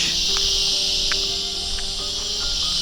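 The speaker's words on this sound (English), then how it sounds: "It's cicadas, isn't it?" Cicadas in a Costa Rican jungle make a dense, continuous high-pitched drone, loud and unbroken, with a few faint clicks and rustles beneath it.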